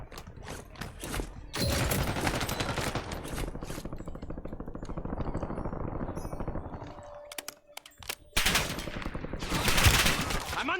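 Gunfire in Call of Duty Warzone on Rebirth Island, rapid automatic bursts and clanking mechanical sounds continuing loud and dense through the stretch, with a brief lull before firing resumes.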